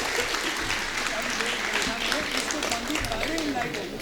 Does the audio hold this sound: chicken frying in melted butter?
no